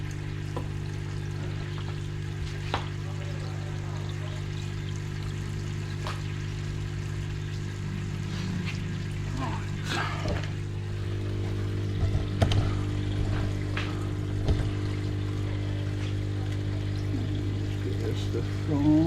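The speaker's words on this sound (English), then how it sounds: "I'm going to quickly put 5 mils of water in here from my garden hose." Water from a garden hose pours into a small container beside a koi pond, a soft steady trickle under a constant low hum that grows slightly fuller toward the end.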